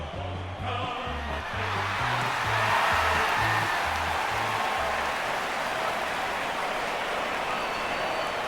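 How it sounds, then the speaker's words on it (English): A stadium crowd applauds at an AFL Evolution match between Hawthorn and Adelaide, a broad steady wash of clapping and crowd noise with a low rhythmic musical pulse underneath in the first few seconds. "They're looking sharp and the crowd are appreciating it."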